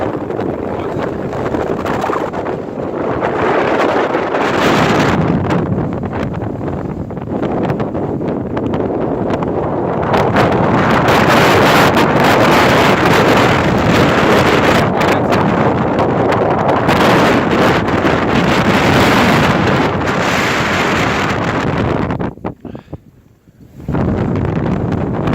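Blizzard wind buffeting a microphone outdoors at a farmstead, a loud continuous roaring rumble with gusty surges that briefly drops near the end.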